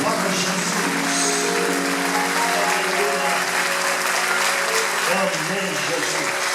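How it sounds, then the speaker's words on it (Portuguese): A church congregation in Guarulhos claps in a dense, loud, continuous wash, mixed with sustained music or singing voices. "Uma salva de palmas para Jesus."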